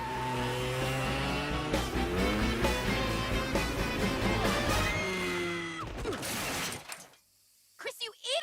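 Cartoon dirt bike, a dad's motorcycle, revving and jumping a fire hydrant before crashing, a dense loud engine and impact mix followed by clattering debris and a brief pause, then a voice.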